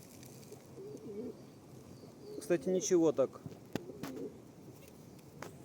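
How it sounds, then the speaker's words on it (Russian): Pigeons coo in a few soft, rounded bursts near a pond where ducks rest, rising briefly above steady outdoor ambience while someone talks over them. "Здесь у нас голуби."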